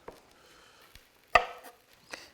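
A knife chops ingredients on a cutting board while one-pot pasta cooks, a few quiet, irregularly spaced taps with one sharper, louder chop near the middle, close by with no talking.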